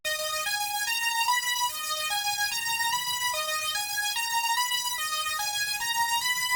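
A bright synth counter melody from the Serum Trips preset in a rage beat plays alone, a simple stepwise line of sustained buzzy notes that rise and fall in a steady repeating pattern.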